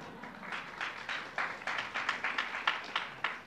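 Scattered hand clapping from an event audience at Yeshiva University, with a quiet, uneven run of claps spread across the whole stretch rather than a full ovation.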